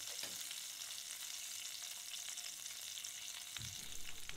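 A duck breast sears in a pan with a steady crackling sizzle, and a short clatter of handling interrupts it near the end.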